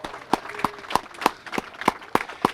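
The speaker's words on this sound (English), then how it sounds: "Let's give her a big round of applause." Scattered, sparse claps ring out for the Deputy Mayor at an outdoor ribbon-cutting ceremony on town center steps, about eight distinct slow hand claps spaced evenly rather than a full crowd roar.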